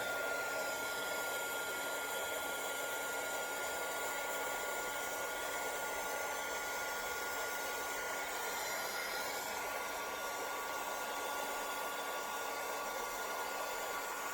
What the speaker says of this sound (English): Get my hairdryer nice and warm.